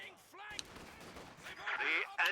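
Machine gun fire in Company of Heroes 2 battle, several sharp bursts of rattling gunfire at moderate loudness, separated by brief gaps, with scattered other battle noises between them and no talk.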